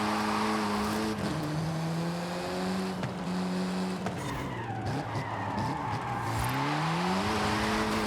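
A Honda Civic EG hatchback racing in Forza Horizon: its engine note climbs and drops through gear changes, with tire skids and squeals, loud and close throughout.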